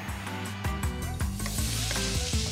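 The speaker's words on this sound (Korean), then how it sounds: "알싸한 마늘 향을 입혀 튀기듯 볶아낸 돼지 껍데기도 별미인데요" Pork skin stir-fried with garlic sizzles hard in a hot pan, a steady loud crackle broken by rhythmic scraping strokes of a utensil, with no talk over it.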